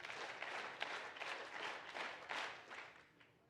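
A large audience claps in unison on cue at a birth anniversary event, giving a burst of about seven rhythmic, evenly spaced claps that sound soft and distant before trailing off.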